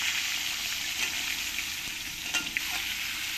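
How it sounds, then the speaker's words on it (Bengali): Potatoes and pointed gourd fry together in a pan, giving a steady dense sizzle throughout with a couple of small pops and a light stir. "আলু পটলগুলো আমি একসঙ্গেই ভেজে নেব।"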